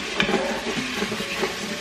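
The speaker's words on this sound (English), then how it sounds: "you just want to stir it and brown the onions and just combine everything" Onions and garlic browning in a pan while being stirred, a steady close sizzle with a few soft utensil scrapes over roughly two seconds.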